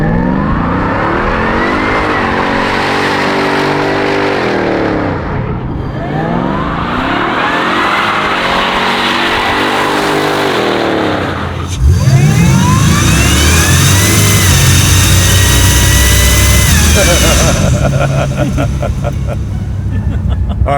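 A supercharged 1964 Pontiac Bonneville roars through loud, sustained burnouts, its engine revving and rising in pitch while the tires squeal and scrub continuously, close and overwhelming throughout.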